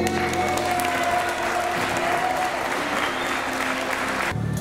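Loud, dense applause and ovation from the audience at the Miss Nièvre 2025 beauty pageant in Clamecy, continuous clapping that fills the hall and cuts off abruptly near the end.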